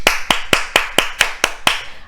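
Eight sharp hand claps in an even, steady rhythm, close and distinct, with nothing else heard.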